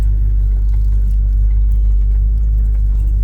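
An old Chevy C10 pickup truck with new brakes is driven slowly around a yard, its engine giving a loud, steady low rumble with no talk over it.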